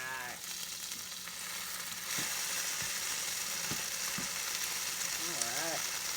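Greasy food frying hard over high heat in butter on a plugged-in electric cooker, a steady broadband sizzle throughout with a few clicks and scrapes, growing slightly louder partway through, and a brief voice-like murmur near the end.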